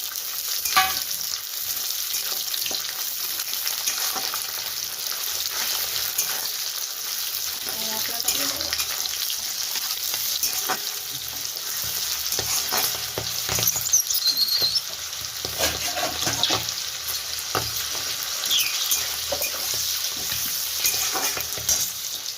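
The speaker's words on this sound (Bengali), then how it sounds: "কড়াইশুঁটিটা একটু ভাজা হবে।" Green peas keep frying in a wok with ginger, garlic and green chilli, a long, even, close sizzle with frequent stirring scrapes and clinks throughout, and a few quieter moments of rustle.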